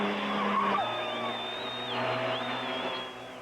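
Street-racing cars skid on asphalt in 1991, tires squealing in loud wavering high whines over a steady engine roar that persists throughout.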